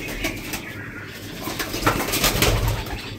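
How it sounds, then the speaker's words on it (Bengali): Male Madrasi pigeons coo inside a home loft, a steady run of low throaty coos close by, with faint rustling and wing movement throughout and no talking. "দেখুন আমার ঘরে কিছু নর পায়রা, চটিয়াল নর।"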